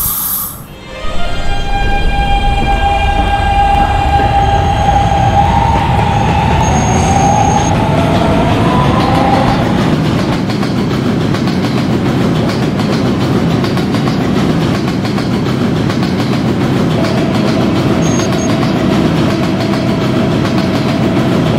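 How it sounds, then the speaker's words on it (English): A subway D train in a Roblox game runs loud and close, with rising motor whine, squealing wheels and a steady rumbling roar of the cars on track. "This is a Gatlin bound D train."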